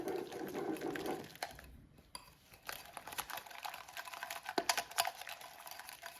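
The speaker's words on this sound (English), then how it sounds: "Whisk it up." Buttermilk herb mayo is whisked in a bowl, a quiet, rapid rattle of clicking taps against the sides, pausing briefly before resuming in uneven bursts.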